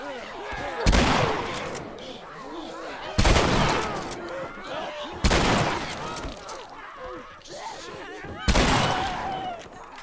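Shotgun fire in The Last of Us Part 2: four heavy, booming blasts spaced a couple of seconds apart, each trailing off into a rumbling decay, with fainter game noise and some talk between the shots.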